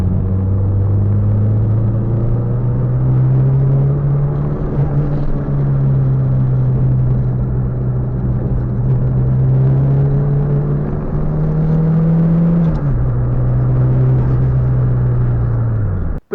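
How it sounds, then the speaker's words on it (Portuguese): A turbocharged car with an adjustable wastegate actuator accelerating under load, loud steady engine drone rising in pitch, a brief drop around a gear change, then continuing, no talk. "vamos testar o carro e ver que pressão é que o turbo faz"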